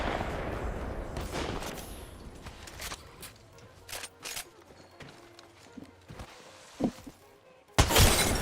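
Gunfire in the battle royale shooter Apex Legends: a burst of shots at the start, then scattered single cracks and short bursts at varying distances, ending with a loud close volley, with some talk.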